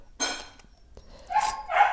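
A dog barks in a few sharp, close bursts, one short yelp followed by louder, longer barks with brief quiet between them.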